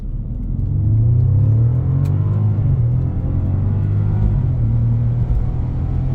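A 5,400-pound Bentley Flying Spur launches hard from a standstill, its engine a loud, steady low rumble with a rising drone as revs climb under full throttle, heard from inside the car.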